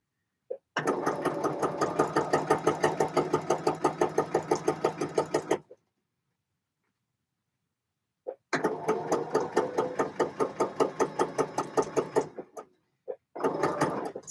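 A sewing machine stitches the upper collar of a jacket in two long, steady runs of rapid mechanical chatter, close and loud, separated by a silent pause, then a couple of short starts at the end.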